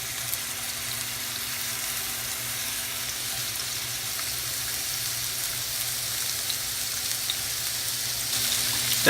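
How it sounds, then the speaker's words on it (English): Chicken sears in olive oil in a hot pan, giving a steady, close crackling sizzle that holds evenly and swells slightly near the end, with no talking. "so I'm going to add the olive oil and then the chicken."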